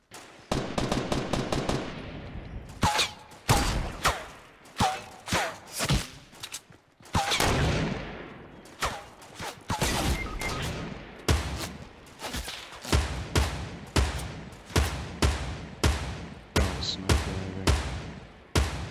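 Gunfire in the video game Fortnite rattles loudly in long automatic bursts and rapid single shots for nearly the whole stretch, with brief pauses between volleys and no talking.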